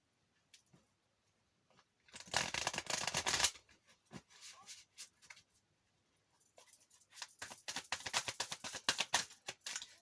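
Tarot cards being shuffled by hand, two bursts of dense riffling and flapping, the first brief and the second longer and more sustained, with soft card handling between them and no talk.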